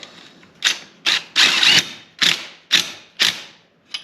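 A ratchet snugs up the lug nuts on a John Deere 1025R compact tractor as 1.4-inch wheel spacers are installed. About seven close, loud bursts of rapid clicking come in an uneven rhythm, with no talking.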